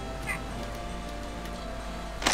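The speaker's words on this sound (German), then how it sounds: "Oh, man kommt auch nicht vorbei an den Katzen." Cats meow in the video game Unterwegs in Düsterburg, a faint brief mew rising over a steady hum of game music, with a louder sound at the very end.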